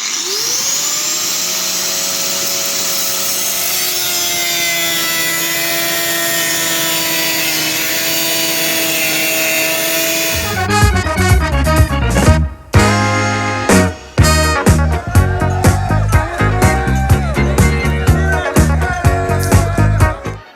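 Power tool cutting a Harley-Davidson rear fender: a steady motor whine runs for a while, then gives way to loud, choppy bursts of cutting noise with brief pauses.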